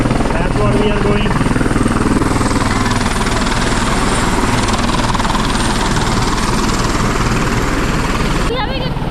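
A helicopter for a sightseeing tour over Niagara Falls thrums nearby with a loud, steady rotor chop and engine whine, continuous for the whole stretch, with people talking over it.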